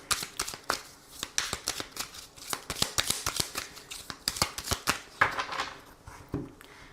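Tarot cards are shuffled and cut during a French daily card reading: a run of quick, crisp riffling flutters and soft slaps, close and fairly quiet, with no voices.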